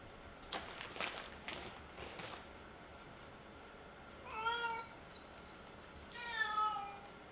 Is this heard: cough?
no